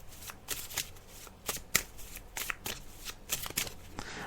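Tarot cards are shuffled by hand in repeated quick riffling bursts, each a crisp papery flutter, close and fairly quiet, continuing steadily with short gaps.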